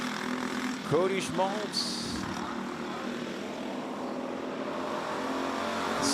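Karts racing under green flag at Forks Karting Speedway, a steady buzzing engine drone, with a brief louder pass near the start and a commentator talking over it.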